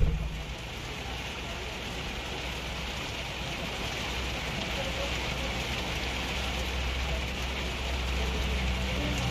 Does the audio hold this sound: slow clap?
no